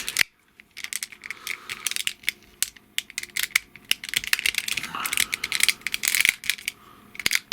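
Plastic parts of a Fanstoys Transformers figure being folded and clicked into place, a dense run of small sharp clicks and ticks close up, irregular and quick, with no talk.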